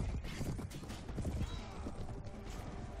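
Horse hooves clip-clopping in the medieval combat game Mount and Blade Warband, a busy uneven patter of steps mixed with clanks and rumble of a tournament melee, no talk heard.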